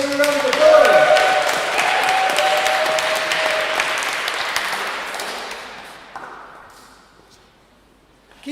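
A burst of lively audience applause at a spoken word and waffle night, loud and close at first with a faint voice beneath, then gradually fading to quiet.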